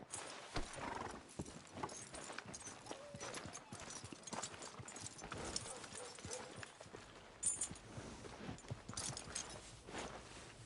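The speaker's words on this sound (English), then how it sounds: "Are you gonna mount that new horse of yours or not?" Steady clip-clop of horse hooves walking, close and continuous, with a brief whinny partway through and some game-like background sound.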